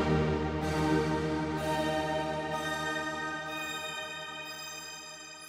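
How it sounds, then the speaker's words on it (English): A DUNE 3 synth preset drenched in shimmer reverb, a sustained bright chord with rising, glassy overtones that swells and slowly fades over several seconds, heard alone. "this is where shimmer reverb really comes into its own"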